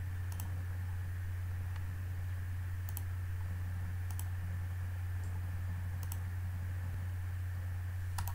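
Computer mouse clicks while working in SolidWorks software: sparse, sharp single clicks spaced a second or so apart, faint over a constant low electrical hum.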